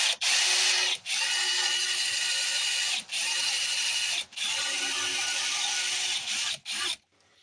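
A power drill with a larger bit bores out a rivet in leather tack, whirring in long sustained runs broken by several short stops, close and steady with no speech.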